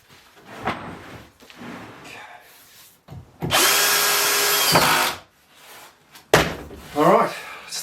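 A power drill drives screws into leftover decking timber planks for an outdoor table. It whirs in several close bursts, one long and loud in the middle and shorter ones around it, with brief voices in between.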